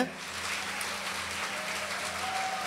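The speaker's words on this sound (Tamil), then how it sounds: "ஒரு உற்சாகமான கைத்தட்டல் கொடுங்க" An audience at a Women's Day discussion gives steady, dense applause, continuous and moderately loud throughout, with no talk over it.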